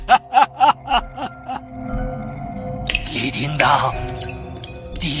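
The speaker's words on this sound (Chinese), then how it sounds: "滴答，这声音多美妙啊！" Water drips in the horror video game Hell Wedding: three crisp, separate drops fall in quick succession, then give way to a murky mix of eerie in-game noises.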